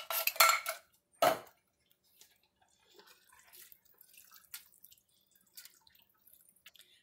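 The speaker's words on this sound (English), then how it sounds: "I just plop them in like" Canned tomatoes, undrained, plop wetly into a casserole dish in two quick splats, followed by faint scattered drips and clinks of a utensil against the dish.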